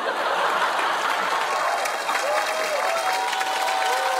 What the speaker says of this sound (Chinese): 我们真的应该把掌声送给那些明明知道是王晶导演的戏还坚持去买票的观众